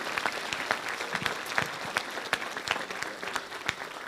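An audience at a mayor's New Year's address applauds steadily, a moderate room of clapping with individual claps standing out, fairly faint and without any voices over it.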